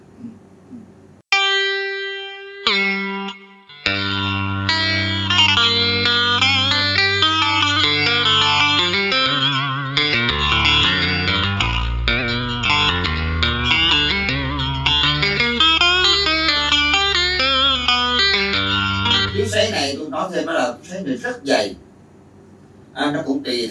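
Heavily distorted electric guitar through a Nux MG300 multi-effects pedal, set to a thick, fuzzy tone for Vietnamese traditional-music guitar, playing a sustained, continuous melodic phrase with reverb-like tails for about twenty seconds, loud and alone.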